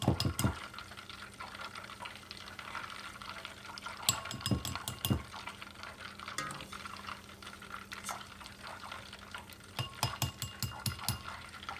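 Butter simmering down into homemade ghee, giving off clusters of sharp crackling pops and sputters over a steady low hiss, close and fairly loud, with bursts bunching up around the start, middle and end; nobody talks.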